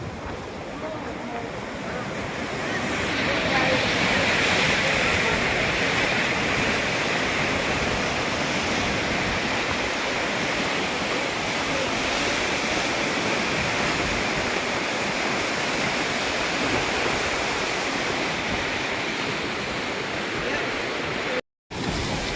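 Water rushes across a road near the Ganagapur bridge in a steady, loud, broadband roar that holds for the whole stretch, with only a brief dropout near the end.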